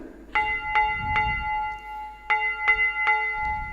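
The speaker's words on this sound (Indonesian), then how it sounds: "ternyata lonceng Natal sudah bergema dan memanggil kita untuk bersuka cita" Bells ring for a Christmas Sunday school service, two clear groups of three evenly spaced, resonant strikes with a short pause between groups, close and bright over a quiet background.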